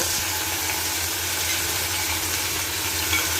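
Tomato, green chili and bottle gourd sautéing with onion and garlic in a pan for dal rice, giving a steady, close broadband sizzle that holds evenly throughout with no talk.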